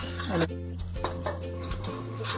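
A utensil stirs ragi flour and water in a cooking pot, giving light clinks and scrapes against the metal over a steady low hum.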